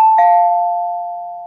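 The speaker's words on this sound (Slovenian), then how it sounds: "Bom kar pozvonil." A doorbell rings once with a clear electronic ding-dong, two sustained tones that fade slowly over about a second and a half, loud and close with no voices.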